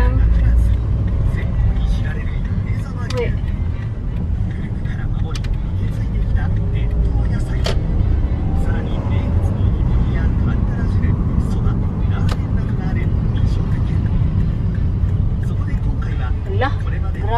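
Busy road traffic in Japan with many cars, a constant loud rumble of engines and tires rolling by close at hand, with occasional sharper passing sounds, while people talk over it.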